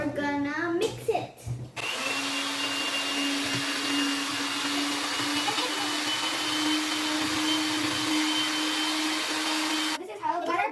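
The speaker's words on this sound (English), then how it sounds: "Now we're gonna mix it." An electric mixer blending chocolate cake batter runs as a steady, loud motor whine for about eight seconds, with brief talk before it starts and after it stops.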